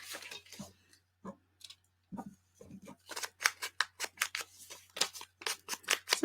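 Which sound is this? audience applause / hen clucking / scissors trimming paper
scissors trimming paper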